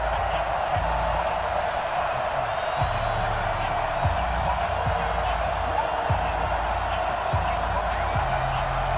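Steady roar of a sold-out stadium crowd in Madden NFL 20, Patriots against the Houston Texans at Foxborough, a dense continuous wash of voices with soft low thumps underneath, loud and unbroken throughout.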